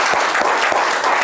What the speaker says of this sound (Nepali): तपाईहरु सबैजनालाई एकचोटी ताली